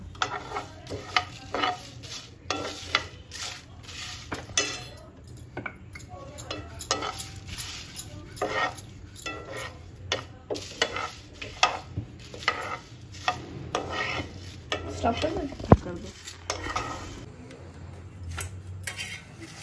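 Coriander seeds and bay leaves dry roasting for homemade garam masala, stirred with a spoon in a pan: steady rhythmic scrapes and clinks of utensil against metal over a faint crackle, continuing throughout.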